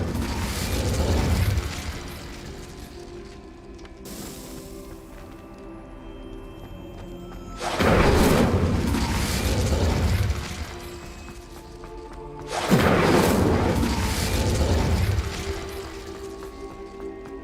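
Whooshing fire bursts from an Incendio spell in the video game Hogwarts Legacy, three distinct loud flares spaced several seconds apart over quiet ambient background.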